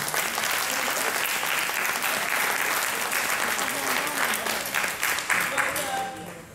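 Audience applause at a youth entrepreneurship event in the Guadeloupe region, a steady wash of clapping from a sizeable crowd that holds for several seconds and then tapers off, with some voices faintly mixed in.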